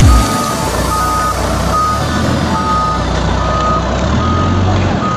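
A truck backing into a garage, its reverse alarm beeping in a steady repeating pattern over a loud, constant engine rumble at close range.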